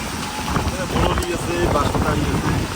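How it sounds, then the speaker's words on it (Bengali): Wind rushes steadily across an open riverside spot on a rainy day while river fish are being bought, its broad roar holding level for the whole stretch and rising slightly in the middle. "আরে সেই বাতাস"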